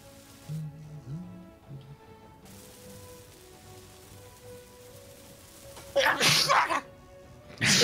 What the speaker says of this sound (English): That was a crazy one. I like to give my sneezes like a sort of personality of their own.